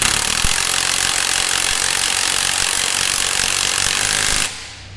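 An impact gun zaps a nut tight on a Dodge Challenger or Charger coil spring during a spring install, sounding as one loud, continuous, rattling mechanical burst that stops abruptly near the end, with only quiet shop ambience after.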